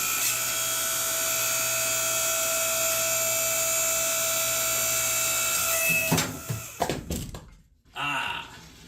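A Harbor Freight 5-ton electric log splitter hums steadily with a loud motor whine, then the pitch shifts and the load strains with creaks and thunks as the ram engages near the end.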